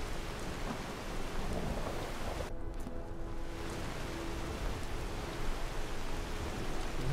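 Steady heavy rain and rumbling thunder in the video game Skyrim fill the whole stretch as a dense, unbroken wash, with a deeper roll of thunder partway through and no voices.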